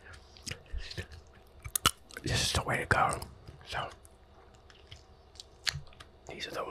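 Sunflower seeds still in their shells being cracked and chewed close to the mic in a quiet ASMR setting, with irregular crunchy bites and soft mouth sounds scattered between brief whispered speech.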